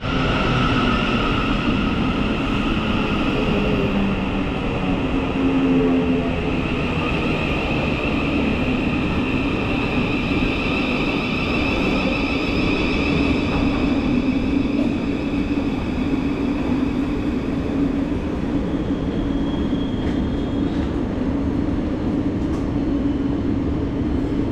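A train in Gatwick Airport station rumbles steadily with a broad, continuous roar and faint high whining tones, sustained throughout without any talking.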